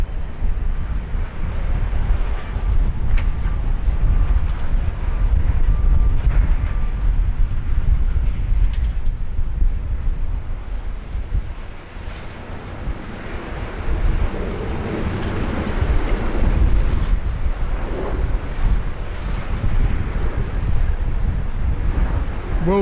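A Velocity airliner arriving from Melbourne touches down at Sydney Airport in gusty wind. A loud, continuous engine and wind roar fills the scene throughout.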